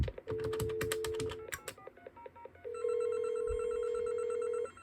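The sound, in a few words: telephone ringing through custom TDM switch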